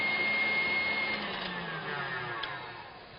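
Electric hand mixer whirring steadily while whipping egg whites toward soft peaks with cream of tartar added for soufflés, a close continuous motor drone that fades slightly toward the end.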